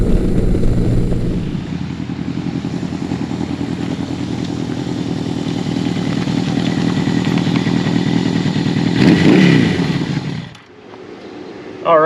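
Yamaha XJ1100 Maxim motorcycle with progressive fork springs riding on the road, its engine a steady loud drone with wind noise that swells briefly near the end before cutting away.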